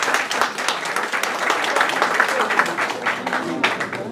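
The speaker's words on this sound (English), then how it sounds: "Please give a round of applause to Nina and come on up." An indoor audience at a community meeting claps steadily for an honoree, a dense, even burst of applause from a moderate-sized crowd that holds at a lively level throughout.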